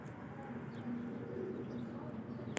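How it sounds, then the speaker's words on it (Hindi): Soft, low cooing of large pigeons murmurs steadily through the clip over a faint background hum, with a brief high chirp near the end. "आउट क्लास कबूतर हैं।"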